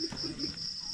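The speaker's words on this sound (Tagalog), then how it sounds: "Mamaya ipaparinig ko sa inyo yung huni ng kuliglig." Crickets chirp at night in the countryside around a farmhouse, a steady high-pitched trill that keeps going throughout, with faint low background sounds beneath it.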